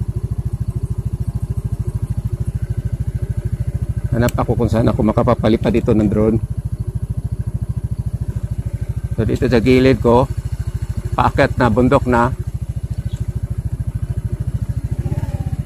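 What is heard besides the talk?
Rusi Flex motorcycle engine riding uphill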